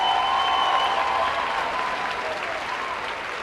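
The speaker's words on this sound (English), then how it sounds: "They deserve a round of applause." A commencement audience breaks into dense, steady applause that fills the hall and tapers off gradually, with a voice briefly audible at the start.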